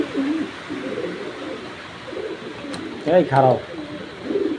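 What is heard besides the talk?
racing pigeon cooing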